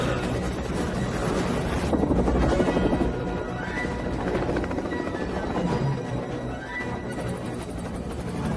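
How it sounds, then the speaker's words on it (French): A helicopter's steady rotor roar fills the scene, dense and loud, with other commotion mixed in and no clear voices. "Je veux que cette saloperie d'hélicoptère se pose tout de suite."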